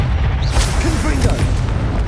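The Confringo fire spell explodes in the video game Hogwarts Legacy with a loud, heavy, booming roar under a dense rumble of game effects, close and continuous through the short moment.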